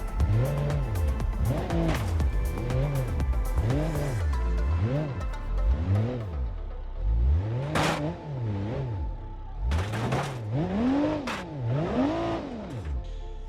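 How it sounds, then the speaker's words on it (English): A heavy-duty off-road truck in the BeamNG driving game revs its engine in repeated rising and falling surges, climbing and easing off over rough ground, with occasional tire scrabble and clunks. "I've just went for the standard off-road heavy duty truck variant that we have here"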